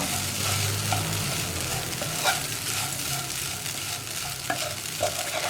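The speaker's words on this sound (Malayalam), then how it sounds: "ഇനി അവിൽ ചേർത്ത് നന്നായിട്ട് ഇളക്കുക." Beaten rice (aval) upma being stirred in a pan, a steady soft scraping and rustle with a faint sizzle underneath, a few sharper spoon taps standing out, no voices.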